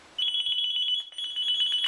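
A firefighter's pager goes off nearby with a steady, loud, high-pitched electronic beeping tone that pulses rapidly and continuously, with a brief dip partway through before resuming.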